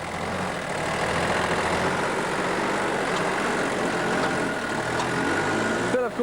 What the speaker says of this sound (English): Philip Schofield could make up some good time here if only he could get to grips with this tractor load of Jersey daffodils